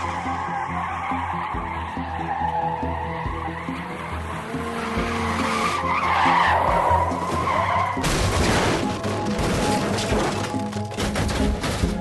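A dramatized car skids on a bumpy road and spins out of control, tires screeching with a rising rumble before a harsh crashing impact near the middle, loud and close, followed by continued grinding noise.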